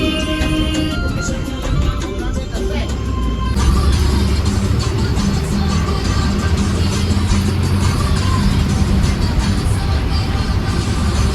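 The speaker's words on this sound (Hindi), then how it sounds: "और ये सामने से आ गई रोहडू से दिल्ली जाने वाली गाड़ी।" An HRTC Rohru-to-Delhi bus approaches and passes close by on a mountain road, its engine growling loud and rising over a steady road rumble, heard from inside another moving bus.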